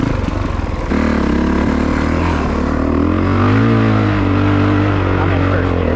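An off-road motorbike idles and revs in first gear while stuck in thick, gnarly mud, its engine a loud, close, sustained drone that rises and holds, with a voice faintly mixed in.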